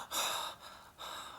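A puppeteer performs scared breathing: quick, close gasping inhales in two bursts with a short pause between.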